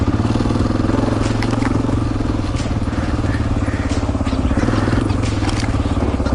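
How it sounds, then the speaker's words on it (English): A 2004 Honda XR400R dirt bike's single-cylinder engine lugs low and loud in second gear, with a rough, steady, pulsing thump under wind and rattle throughout. "There's your flame out. I was lugging it too hard in second."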